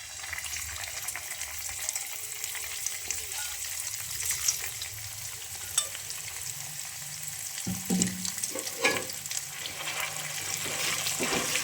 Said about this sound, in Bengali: ঘিটা আমার গরম হয়ে গেছে এবার আমি বাদামটা দিয়ে দিচ্ছি বাদাম বাটা